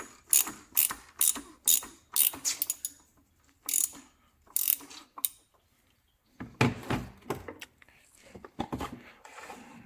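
Short runs of ratcheting clicks from a wrench unscrewing the oil filter housing on a 2022 Porsche Macan, starting and stopping, with a brief pause before another burst of clicking.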